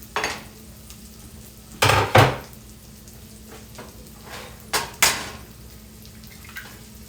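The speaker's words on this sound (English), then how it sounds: "Let's crack our eggs in here." Eggs cracked into a pan for a keto food-prep breakfast, with a few sharp clacks and splats standing out over a quiet, steady background, clustered around two separate moments.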